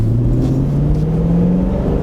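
An Aston Martin Vantage V8 creeping forward on a slipping clutch, a steady low engine drone with a slowly rising tone, held close and loud for about two seconds with no voices.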